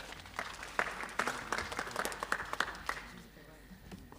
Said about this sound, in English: A round of applause for the MMC.